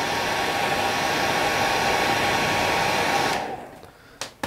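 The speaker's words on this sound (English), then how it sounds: "Now to hold it back, I've got the hairdryer, I'll show you watch." A hair dryer blows steadily and loudly on a tied mayfly shrimp sea trout fly, a dense broadband rush lasting about three seconds before it cuts off, followed by a few faint clicks and handling noises.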